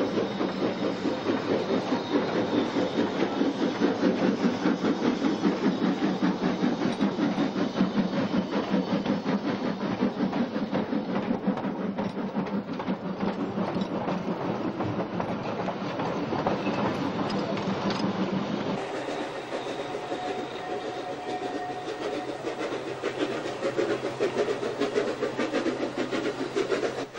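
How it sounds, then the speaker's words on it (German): A train of the Ischlbahn pulling into St. Wolfgang station from Bad Ischl, a dense steady rumble with rhythmic rail clatter that shifts and thins partway through, loud and close with no talk. "während ein Zug aus Bad Ischl in den Bahnhof kommt"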